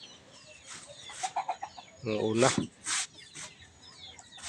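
Chickens and turkeys waiting for feed cluck and call nearby in short repeated bursts, with someone speaking briefly among them.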